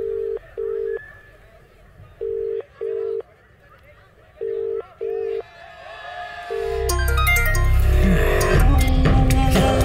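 A telephone rings back on the line after dialing, sounding three pairs of steady tone bursts evenly spaced, close and clear, before a loud burst of music and noise takes over.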